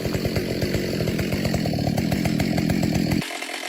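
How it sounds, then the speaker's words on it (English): A long-bladed chainsaw cuts into a tree trunk, its engine buzzing loudly and steadily with a rapid chattering rhythm, then it suddenly cuts off just after three seconds, leaving a quieter background. "The worker picked up a long-bladed chainsaw and started the machine."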